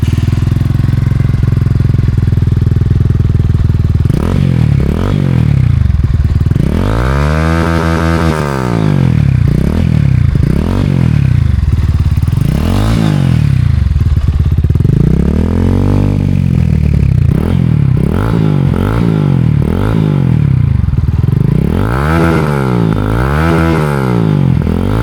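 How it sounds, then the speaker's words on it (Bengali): A GPX Demon motorcycle fitted with an Akrapovic R1 exhaust, its outer dB killer removed, revs hard and repeatedly, loud sweeping throttle blips rising and falling over a rumbling idle, close up with no talk. "সো এই হচ্ছে উইদাউট আউটার ডিবি কিলারে আমার বাইকের অ্যাক্রোফোবিক R1-এর সাউন্ড"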